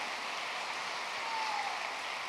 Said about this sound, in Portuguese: Dê um aplauso ao Senhor, a Ele.